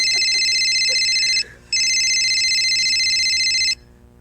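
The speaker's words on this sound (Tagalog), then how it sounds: "Ringtone 33." A phone ringtone plays loudly and steadily in two long bursts separated by a brief gap, an electronic tone ringing alone with no voices over it.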